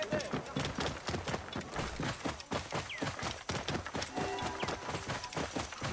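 A horse gallops in Assassin's Creed Origins, a fast steady drumming of hooves running throughout amid faint game sounds, with a few brief whistling tones over the hoofbeats.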